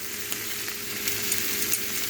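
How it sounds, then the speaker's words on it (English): Meat browning for chili sizzles steadily in a hot pan, a continuous soft hiss with faint crackles and pops scattered throughout, with no talking over it. "that sizzle."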